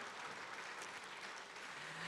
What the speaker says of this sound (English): Can we give 𝐂𝐶𝐍𝐊 the biggest round of applause?